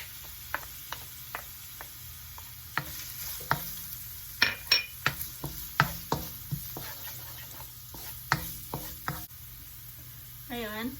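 Garlic frying in a pan for crispy honey garlic wings, with scattered light clicks and taps of stirring over a low, steady sizzle, fairly close and unaccompanied by talk.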